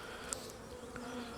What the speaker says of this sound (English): So I'll shake these bees off.